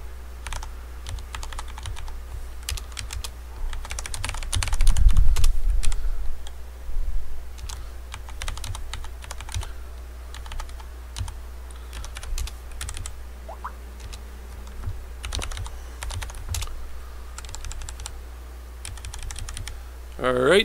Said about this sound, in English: Let's type up config net0.